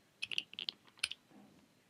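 Quiet keypresses on an iMac computer keyboard, a short cluster of quick clicks followed by a few more taps, faint and close, with no talking.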